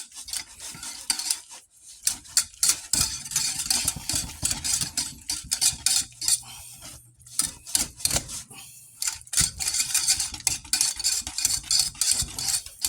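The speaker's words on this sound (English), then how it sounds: "we're just going to go ahead and start creaming this cheese off" Shredded pepper jack and other cheeses creamed in a bowl for Tex-Mex burgers, with loud close scraping and rhythmic stirring strokes of a utensil against the bowl and brief pauses between bursts.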